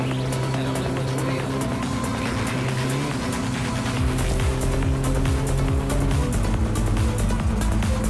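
A car engine in My Summer Car drones steadily on a dirt rally stage, its pitch climbing with audible shifts as it accelerates, loud and continuous with a faint whine above it.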